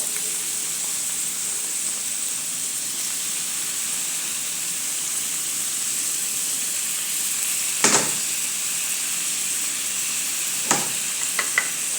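Onion and tomato sauté in a pan for stir-fried kangkong with tofu, making a steady close sizzle with a bright hiss. A few sharp spoon or spatula knocks come from the stirring.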